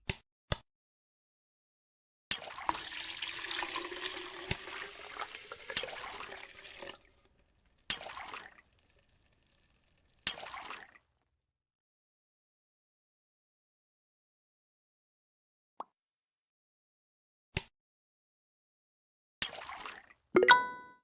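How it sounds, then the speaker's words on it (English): Water splashes and sloshes into a stock pot in a video game, in a few bursts, separated by short clicks and quiet gaps. "Pour the water into the stock pot."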